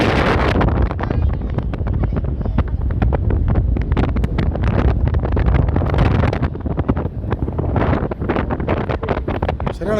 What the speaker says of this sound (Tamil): சரியான காத்துனே.